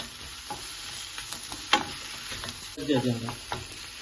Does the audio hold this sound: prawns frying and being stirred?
yes